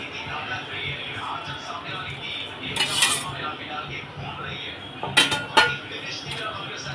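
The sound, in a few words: fried chicken liver (kaleji) added and mixed in pan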